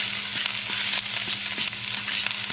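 Diced tomato sizzles in olive oil in a pan, a loud, continuous frying hiss broken by regular soft clicks of stirring, with no talking.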